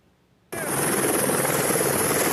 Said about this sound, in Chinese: 消防直升机飞伫空中